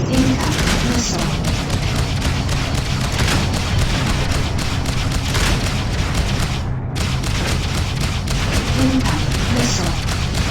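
Missile impacts and explosions in the space combat game Freelancer, a dense barrage of booming blasts and thuds over a constant rumble of battle.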